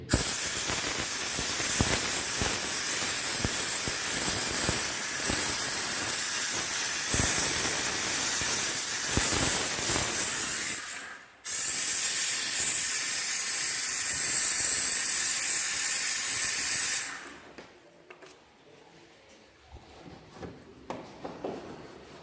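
A hot steam cleaner sprays a car engine bay with a loud, steady broadband hiss for about eleven seconds, breaks off briefly, then resumes for several seconds before stopping, leaving quiet handling noises.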